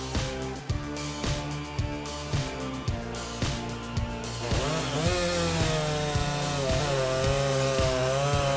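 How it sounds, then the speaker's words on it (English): A Husqvarna 357 XP chainsaw rated at 4.4 horsepower cuts through oak logs, its engine revving loudly and close with a rhythmic pulse, then climbing to a higher, sustained whine as it bites into the wood. "The Husqvarna 357 XP is being pushed to its full potential in real-world conditions"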